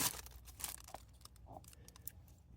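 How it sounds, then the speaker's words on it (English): Scissors snip and tear through a strip of alien tape up close, giving a few quiet, irregular cutting and crinkling sounds with no voices. "And we're going to cut the alien tape."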